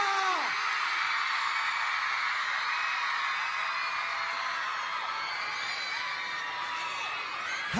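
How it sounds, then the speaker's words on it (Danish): A large open-air concert crowd at an outdoor X Factor show screams and cheers without pause, loud and dense, with high whoops and yells rising above a roaring wall of voices. "jeg vil høre jer skrige! Skrig som barnet, der kommer til livet!"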